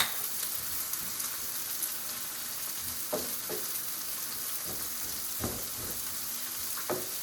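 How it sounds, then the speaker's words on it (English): Onions and garlic sauté in a pan, a steady close sizzle of frying with occasional scraping stirs breaking through at irregular intervals. "So I'm gonna saute this here for a few minutes"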